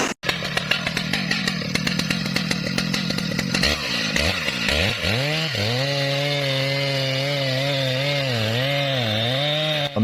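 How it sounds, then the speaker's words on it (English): A steel chainsaw cuts into a giant felled tree log in a forest, its engine loud and close, first rough and bogging under load, then settling into a steady high whine with rising and falling pitch as it revs through the wood. "The worker approaches with a steel chainsaw, a symbol of raw power and accuracy."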